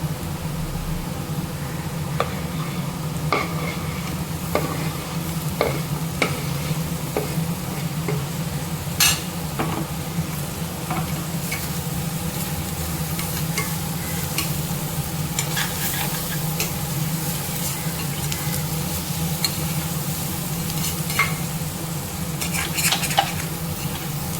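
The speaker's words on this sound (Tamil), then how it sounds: "இதை நல்லா கிளறி விட்டுட்டு நம்ம மசாலா பொருள் சேர்த்துக்குவோம்" Sweet potato and onion are stirred while frying in a pan, with a steady loud sizzle throughout and frequent sharp scrapes and clinks of a spatula against the pan, close and continuous.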